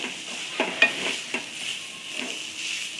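Green chili and coconut chutney being sautéed in a pan, a soft sizzle under several scraping stirs and light clinks of a spoon against the pan, close and fairly quiet.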